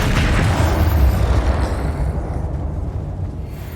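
Spell blasts erupt in the video game Hogwarts Legacy, a loud rumbling boom that swells and then slowly decays into a fading low roar, with no talk.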